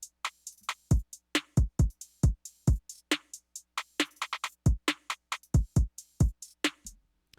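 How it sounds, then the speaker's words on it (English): A dry hip hop drum beat made in FL Studio, kicks and snappy snare hits in a steady pattern, close and clear with silence between strikes. "So together the drums sound like this."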